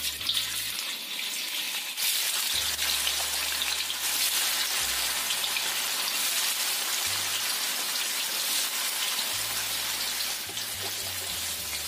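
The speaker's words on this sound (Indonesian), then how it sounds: "Kita goreng dulu tahunya sampai setengah matang, nggak terlalu kering ya." Tofu pieces fry in hot oil over medium heat until half cooked, giving a steady, dense sizzle and crackle that stays even throughout, close up, with no talking.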